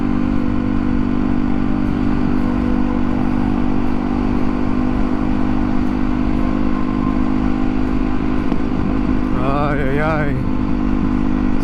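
A motorcycle engine drones at highway speed, loud and steady with a rough, irregular texture from misfiring and popping, while a voice talks briefly near the end.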